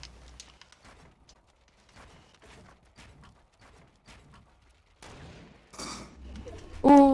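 Sniper rifle shots and other gunfire in the video game Fortnite, a series of short sharp cracks and thumps scattered through the clip at moderate loudness, ending in a louder burst with a tonal game effect.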